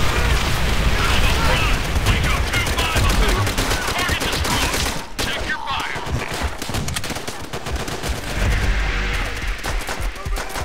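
Artillery fire and gunfire in Call of Duty: World at War, a dense, loud, continuous barrage of shots and blasts with deep booms running throughout, people talking over the din.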